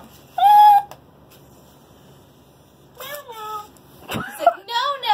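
A house cat meows several times in short bursts that are clear and close. A voice is also heard in between the meows.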